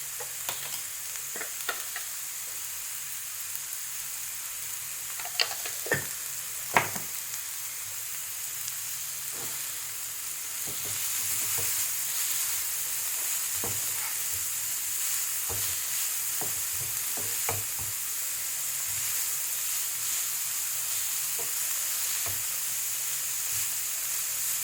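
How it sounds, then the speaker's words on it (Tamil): Chopped cabbage with salt sizzles and fries in a pan, a steady close hiss punctuated by scraping stirs that grow denser partway through, with no talking. "நமக்கு கட் பண்ணி வச்சிருக்கிற அந்த கேபேஜை போடுறேன். சால்ட்டும் போடுறேன்."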